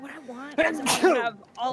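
A single sharp sneeze bursts out in the middle of casual conversation, loud and close, with a person talking just before and after it.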